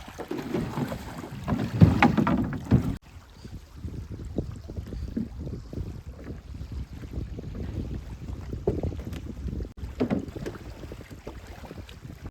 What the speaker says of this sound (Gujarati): અને આપણી હોડી જો સ્ટાર્ટ થઈ ગઈ છે ચાલવાની